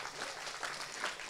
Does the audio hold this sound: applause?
yes